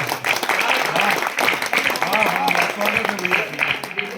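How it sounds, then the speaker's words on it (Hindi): Listeners at a poetry recital in Barkherwa, Lakhimpur Kheri clap in a fairly dense burst of applause, with a voice talking over and through it. "ताली बजाइए"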